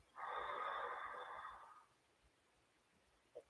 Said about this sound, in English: breathe out through the nose